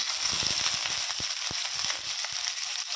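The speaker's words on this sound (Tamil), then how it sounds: "இதையும் நல்லா வதக்கிக்கலாம்." Small onions frying with ginger garlic paste for a village-style country chicken fry, giving a dense continuous sizzle with rapid popping crackles close up.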